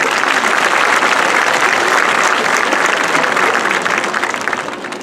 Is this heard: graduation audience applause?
yes